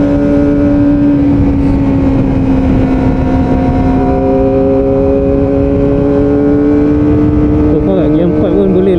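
Kawasaki Ninja ZX-25R SE engine climbing a mountain road in fourth gear, a loud, steady high-revving drone with wind rush, pitch holding level before a brief shift near the end.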